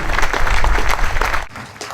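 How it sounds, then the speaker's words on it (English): A crowd at a beach celebration of life applauds Phil Arnone, a brief burst of dense clapping that cuts off sharply. "Give him a nice round of applause"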